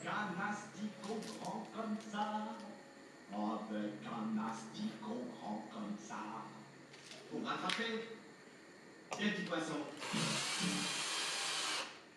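A drill unscrews a wooden batten that serves as a jigsaw guide, sounding as a short, loud whir near the end after a stretch of someone talking.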